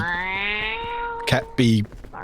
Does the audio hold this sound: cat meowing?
yes